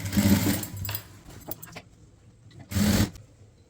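A sewing machine stitches the seam of a chudithar top in two short bursts, a longer run at the start and a brief second run near the end, with quiet handling sounds between.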